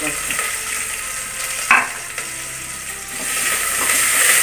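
Chopped onion, green chili, ginger and garlic sizzle in a pan for vegetable biryani, a steady bright hiss with scraping stirs and one sharp clack of a utensil, loud and close, no talk.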